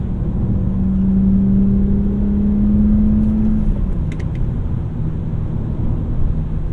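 A 2008 BMW 328i engine hums steadily at close range with a smooth, even drone and a brief rise in pitch partway through, heard alone without voices.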